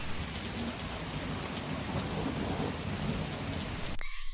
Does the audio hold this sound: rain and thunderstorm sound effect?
yes